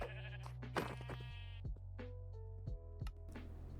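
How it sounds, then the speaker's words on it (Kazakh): Sheep in the video game Minecraft bleat repeatedly, several drawn-out, wavering cries overlapping and following one another close up, alone without talk. "ана жерде тағы да қойлар толып тұр"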